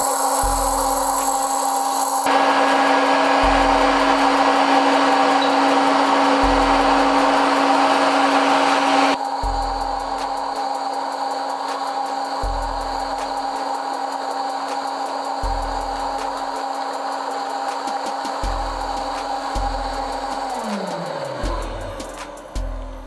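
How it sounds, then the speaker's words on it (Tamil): An oil-free frying machine runs while making onion chips, giving a steady loud whirring drone with a hot-air hiss throughout, interrupted by repeated low thumps and a falling whine as it winds down near the end. "ஸோ இப்போ ஜஸ்ட் வந்து மிஷின் ஆன் பண்ணிவிட்டு டேரெக்டாக உள்ளே போட்டுடலாம்."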